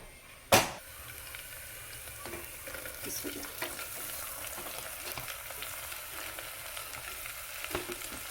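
Garlic fries for a chicken dish, a steady soft sizzle in the pan after a sharp clatter as it drops in, with occasional stirring scrapes throughout.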